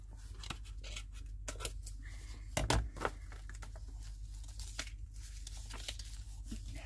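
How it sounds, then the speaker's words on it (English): Scissors snipping corners off folded paper for a journal pocket insert, a series of quiet close crisp cuts and light paper rustling, with no talking. "you just open it out and cut off your corners"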